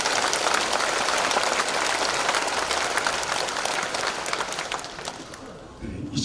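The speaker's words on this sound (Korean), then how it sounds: "우리 박수로 모시겠습니다" Steady applause from a church congregation at a Korean Presbyterian thanksgiving service, welcoming pastors to the stage; it stays full for several seconds, then thins and tapers toward the end.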